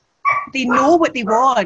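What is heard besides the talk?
dogs barking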